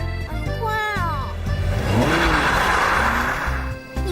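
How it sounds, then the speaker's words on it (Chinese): A car accelerates hard with a rising engine roar that swells and holds for a couple of seconds, while voices shout over it at the start. "快点踩油门！"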